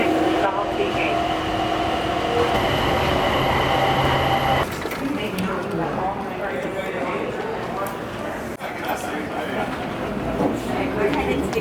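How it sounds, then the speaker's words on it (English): An airport shuttle train pulls away from a terminal station, a steady rumble and hum filling the space with tonal chimes early on, then rolling noise and mechanical rattling as it departs. "This train is departing."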